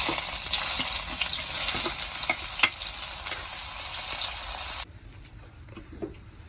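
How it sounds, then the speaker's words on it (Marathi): Onion fries in a tempering of hot oil over a wood-fired clay stove outdoors, giving a loud, dense sizzle with stirring scrapes for most of the stretch before it drops sharply to a much quieter simmer. "तर सर्वात आधी कांदा टाकूया फोडणीला."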